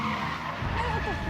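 Resident Evil 7: Papa Baker drives a car at the player in a garage, and loud tire skidding and a revving engine fill a brief moment, close and intense, with game noise underneath.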